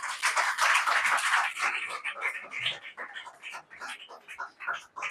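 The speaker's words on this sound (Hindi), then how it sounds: "जोर से ताली बजाओ" A church congregation at an Easter service claps strongly at first, then the clapping thins into uneven, scattered bursts that taper off over several seconds.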